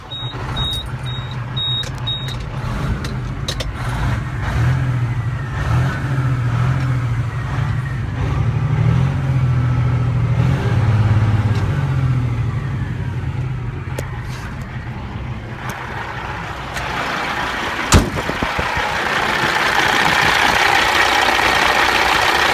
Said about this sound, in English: I'm gonna start it up for you, let you hear it.